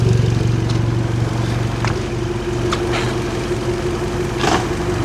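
Suzuki outboard motor running steadily at a close, loud idle-like drone, with a few faint clicks and clunks as it is shifted through gears.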